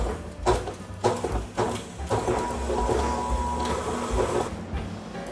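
A stand mixer with the paddle attachment creaming butter and sugar, several short pulsed bursts of motor whir followed by a steadier run, close and moderately loud.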